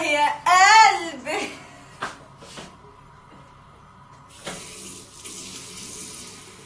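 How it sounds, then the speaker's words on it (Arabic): Water runs from a tap into a sink for face washing, rising to a steady rush in the second half after a voice and a few knocks at the start. "نعاود نغسل وجهي"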